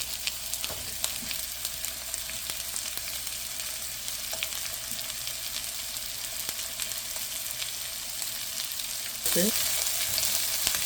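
Bitter gourd fries with onion in a hot pan, giving a steady, fairly close sizzle with occasional spatula scrapes, rising into a brighter, louder hiss near the end.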